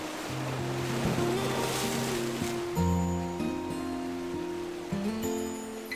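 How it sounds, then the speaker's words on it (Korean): Spring sea waves wash in steadily, a continuous close roar of surf with a faint tonal hum running underneath. "봄을 머금은 바다는 한층 맑아져 파도마저 설레는 듯하죠"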